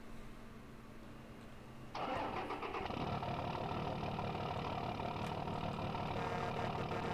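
A Mercedes-Benz 710 truck engine in Farming Simulator 2015 cranks and catches about two seconds in, then settles into a loud, steady diesel idle that runs to the end with no talk over it.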